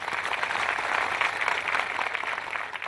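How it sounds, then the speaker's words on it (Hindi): An audience at a televised panel event applauds to welcome a panelist, producing dense, steady clapping that holds at an even level throughout. "तालियों के साथ आप स्वागत करेंगे"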